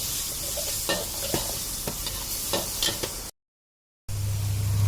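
Minced pork and shrimp are stir-fried for a Thai noodle dish with water mimosa, a steady hot sizzle broken by scraping stirs of a spatula in the pan, then a brief silence before the sizzling resumes.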